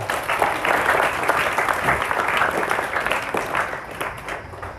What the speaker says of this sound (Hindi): एक बार फिर ताली बजाओ अपने लिए